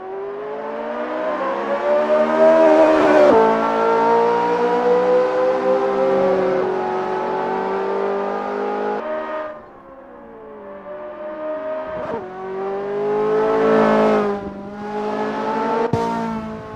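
Ferrari F355 race car lapping Mugello in the Assetto Corsa racing game, its engine revving loud and steady through the gears with sharp pitch drops on shifts and braking, then climbing again, no voices.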